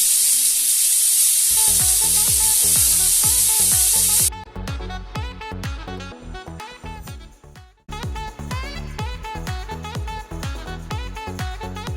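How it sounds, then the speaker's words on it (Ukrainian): Loud sizzling hiss of chicken meat frying on an electric grill for about four seconds, then rhythmic background music takes over. "Смажити його будемо з двох сторін по 2 хвилини"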